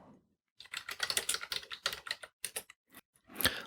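Quick bursts of typing on a computer keyboard, a rapid run of crisp keystrokes with brief pauses and a sharper final key press, close and alone.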